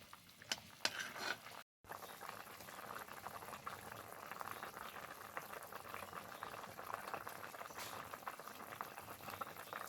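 Papad curry with fried papad simmering in its gravy, a steady bubbling boil that keeps up throughout, broken by a short cut in the sound near the start.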